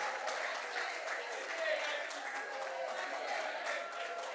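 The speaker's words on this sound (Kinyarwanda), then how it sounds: "Amashyi menshi, amashyi menshi." Applause from guests at a wedding, a steady burst of clapping that holds throughout with voices mixed in.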